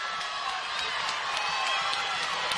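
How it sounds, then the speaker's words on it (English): At a girls' high school swimming finals, a crowd in an echoing natatorium keeps up a steady roar of cheering and whoops for a swimmer, with occasional sharper shouts rising above the din. "Everybody in the crowd is rooting for her"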